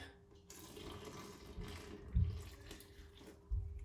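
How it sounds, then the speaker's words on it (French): Hot water is poured from a glass into a bowl of pizza dough ingredients, giving a soft splashing trickle with a couple of louder thumps near the end. "je vais mettre 2 verres d'eau chaud"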